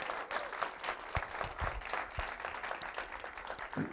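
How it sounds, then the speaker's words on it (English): Audience applause for political candidates at a Spokane candidate celebration, a brief burst of many hands clapping, moderately loud and fairly close, fading slightly toward the end. "Can we give a round of applause?"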